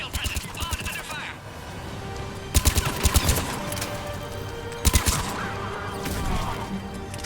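Gunfire during an attack in Mass Effect 3, rapid bursts of automatic weapon fire with sharp loud volleys and clattering impacts, repeating in clusters amid battle noise.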